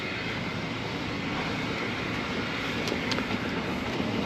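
Steady rumble of a train at Keighley station on the Keighley and Worth Valley preserved railway, a continuous broadband roar with a couple of brief high metallic squeals near the end, no voices.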